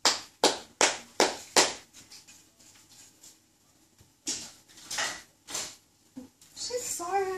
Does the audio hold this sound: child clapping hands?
yes